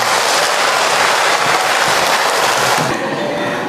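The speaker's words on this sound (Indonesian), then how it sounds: "Tepuk tangan untuk kita semua." Audience applause during an Islamic religious talk, a dense, loud, continuous wash of many hands clapping that fills the whole stretch, thinning slightly near the end.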